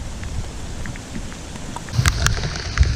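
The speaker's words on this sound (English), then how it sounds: "Rain is coming down harder" Heavy rain pours steadily onto water and foliage beside a suburban canal in Davie, Florida, a dense hiss that swells louder with sharper splatters near the end.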